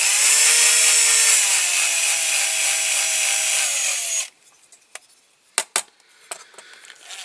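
A power tool whirs steadily and loudly for about four seconds while a thread tap cuts into a die-cast Dinky Toys Morris 1100 model car. The whir then stops abruptly, leaving a few sharp clicks and knocks.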